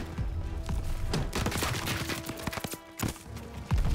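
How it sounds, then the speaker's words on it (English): Rapid bursts of gunfire from the World War II video game Call of Duty WW2, loud and dense, with repeated sharp shots and booms crowding the whole span. "Someone is shooting me."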